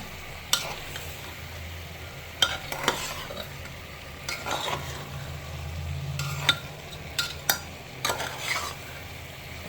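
Rice, dal and vegetables stir-fried together in a pan for khichuri, with a steady low sizzle under repeated scraping and clinking strokes of a spatula, close and moderately loud, no talking.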